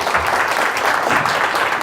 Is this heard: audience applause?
yes